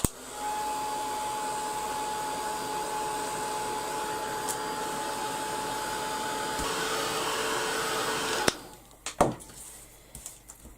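A heat tool blows steadily, drying a die cut craft piece with a steady whirring drone and a faint tone for about eight seconds, then cuts off, leaving soft handling clicks and taps.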